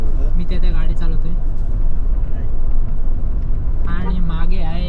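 A car rumbling steadily along a road during a coastal road trip, continuous engine and road noise close by, with people talking over it.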